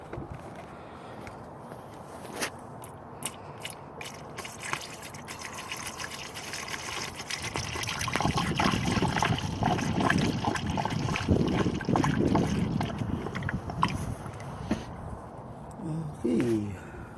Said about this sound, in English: It's gonna be hard pouring it with one hand.